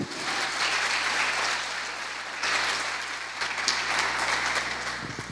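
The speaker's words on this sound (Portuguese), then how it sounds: "Quantos podem aplaudir Jesus por isso?" A church congregation applauds at a Portuguese-language worship service led by Pastor Miller Xavier, a dense, steady wash of many hands clapping that swells briefly midway and fades out near the end.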